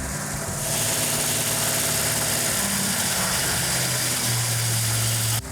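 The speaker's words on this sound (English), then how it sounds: "That's a good idle right there for right now." A Plymouth Cuda's engine idles steadily just after cam break-in, a loud, continuous low rumble with an even throb that holds throughout.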